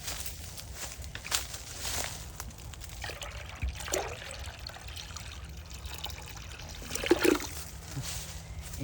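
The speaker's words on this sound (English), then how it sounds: "I'm going to go add some water because they're loving this" Water poured from a container into a bird bath outdoors in Florida: intermittent trickling and splashing bursts, faint and near, with a louder splash late in the clip over quiet background noise.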